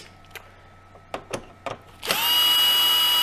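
Cordless power screwdriver unscrewing screws from a Philips LatteGo espresso machine, a few light clicks and taps followed by a steady loud high-pitched whir of the motor running close up.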